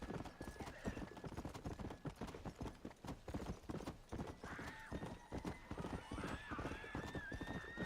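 Horse hooves clip-clop in a steady rhythmic gait in Red Dead Redemption: Undead Nightmare, loud and close, with occasional whinnies and a person talking over the hoofbeats.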